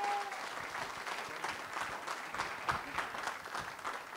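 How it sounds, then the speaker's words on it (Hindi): Audience at a second-anniversary celebration program breaks into loud, sustained applause, a continuous wash of many hands clapping at once with no one speaking over it. "मैं चाहूँगा एक बार जोरदार ताली होनी चाहिए उनके लिए"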